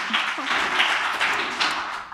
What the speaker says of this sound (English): Oh, applause, yes